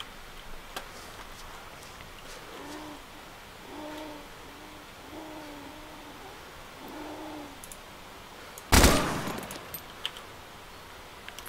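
A gunshot in the video game DayZ: one sudden, loud crack with a short ringing tail that breaks a quiet stretch of faint chirping tones and soft ambience.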